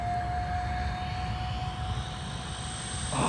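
An E-flite A-10 Thunderbolt II RC jet with twin 64mm electric ducted fans flies past, a steady whooshing whine with a thin high tone, moderately loud and continuous without talk.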